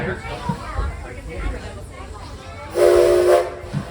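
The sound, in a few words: steam train whistle blast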